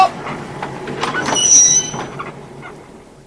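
A class 319 electric multiple unit train sets back slowly to couple, with a swelling metallic squeal and rumble of wheels and couplings at close range that fades away.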